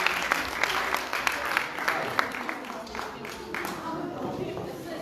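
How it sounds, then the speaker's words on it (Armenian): Church congregation at a Sunday service applauding to send the children off, steady clapping from a crowd in a large room while a voice speaks over it. "եկեք ջերմ ծափահարությամբ մեր երեխաներին ուղարկենք"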